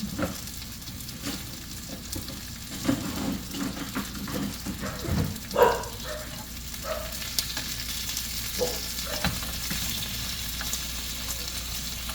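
Chicken pieces fry in olive oil in a pan for paella, giving a steady close sizzle with scattered clinks and scrapes of stirring and a few sharper knocks, no voices.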